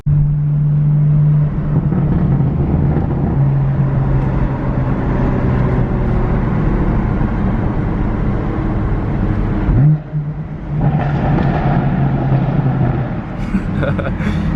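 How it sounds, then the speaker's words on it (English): A BMW F80 M3 engine drones and rumbles steadily inside a tunnel, echoing heavily, then drops off with a brief gap around a downshift before picking back up; a voice speaks over it. "Usually I rip it through that tunnel, but downshifting will do for now"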